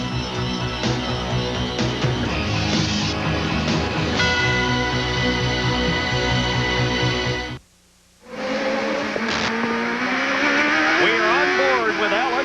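Indy race cars roaring through a left-hand turn on the Molson Indy street circuit in Vancouver, 1990. Loud, continuous engine whine with shifting pitch, a brief drop-out, then engines swelling again near and dense.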